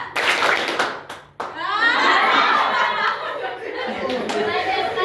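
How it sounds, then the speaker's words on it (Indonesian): A classroom of students claps in a counting game, a burst of hand claps followed by a pause, then steady clapping mixed with chatter and laughter from the group. "Tepuk 1, tepuk 2, tepuk 3, tepuk tangan."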